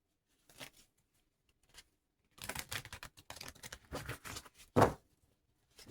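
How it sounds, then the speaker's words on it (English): Quick bursts of tarot cards being shuffled, crisp riffling and slapping close by, with short pauses between flurries. "Quick shuffle."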